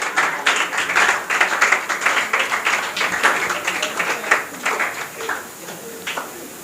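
An audience at a school award ceremony claps for a prize winner, a steady patter of many hands that stays even for several seconds and then thins out toward the end.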